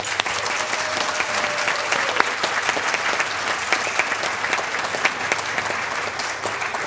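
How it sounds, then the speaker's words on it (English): Sustained applause from an audience at a city council meeting, honoring high school salutatorians and valedictorians, dense steady clapping throughout with a faint tone at the start. "we will allow the real applause for this one"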